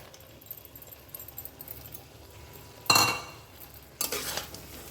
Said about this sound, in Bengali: এই মুহূর্তে আমি এর সঙ্গে মিশিয়ে দেবো ভেজে রাখা মাছের মাথাটা